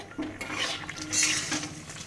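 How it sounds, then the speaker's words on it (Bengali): A spoon scrapes and clinks against a metal pan as potatoes are stirred after steaming under a lid, a few close, uneven scraping and knocking strokes with no sizzle and no talk. "আর একটু নেড়ে নিতে হবে।"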